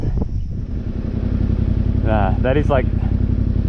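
Motorcycle engine droning steadily at low speed as the bike struggles through a deep sand rut on a coastal trail, the throbbing loud and close with brief revs, while a rider talks over it.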